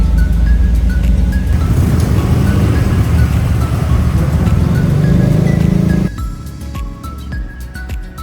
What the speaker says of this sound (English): The cars are leaving.